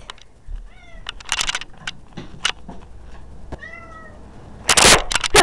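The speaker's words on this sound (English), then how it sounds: "That's Beyla, aka the dumbest cat ever" A cat meows several times nearby, rising and falling calls spread over a few seconds amid sharp clicks and thumps, with a loud burst of noise near the end.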